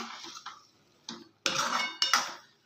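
A spoon stirs sajjaka, a North Karnataka semolina sweet, in a pan, giving a few sharp scraping clinks and scuffs in uneven bursts, close and fairly quiet, with no speech.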